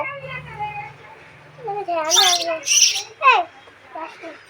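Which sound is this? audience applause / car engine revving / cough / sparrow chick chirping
sparrow chick chirping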